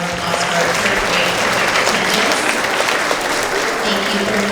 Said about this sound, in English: Let's give a round of applause for our 3rd grade